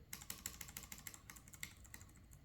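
Keys on a Cherry KW X ULP low-profile mechanical keyboard are pressed in a quick, uneven string of crisp clicks, close and fairly quiet, with no talking.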